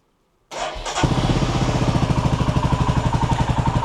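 A Royal Enfield Himalayan motorcycle cranks briefly, catches and fires up, then settles into a steady, loud, close idle with an even thumping pulse and no talk.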